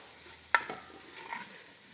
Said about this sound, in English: Saute the mutton also.